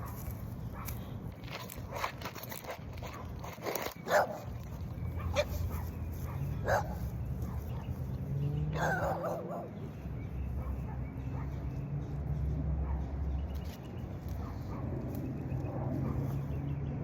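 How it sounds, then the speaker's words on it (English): A dog outdoors near water at a tree-planting site gives a few short barks and yips over a steady low background hum. "Look, they got their dog out."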